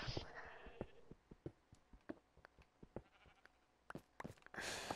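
Minecraft sheep bleat faintly, mixed with a string of sharp clicking game sounds and a louder burst of noise near the end.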